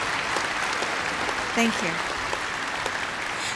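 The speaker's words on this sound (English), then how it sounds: "Before we stop applause" Steady applause from a large audience fills the hall at an event where a president is speaking at a university, with a brief spoken voice briefly over the clapping.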